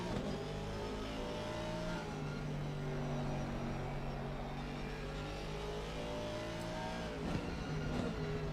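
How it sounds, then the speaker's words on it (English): A BMW race car's big V8 engine roars steadily at Snetterton circuit, a loud, sustained, close rumbling drone with shifting pitch as it powers through a corner, alone without talk. "he's got that BMW right behind him, listening to that big V8 engine roar as he comes through Agostini"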